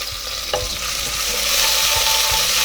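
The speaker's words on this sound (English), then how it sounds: "cook the rawness out of the garlic" Garlic fries loudly in a pan for a rice and potato pilaf, a steady close sizzle with occasional soft stirring knocks.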